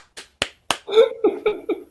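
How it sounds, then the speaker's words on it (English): Several sharp claps or snaps ring out, three spaced hits followed by a quicker run of softer smacks with a faint tone beneath, close and fairly loud. "That sounds like one of your children clapping."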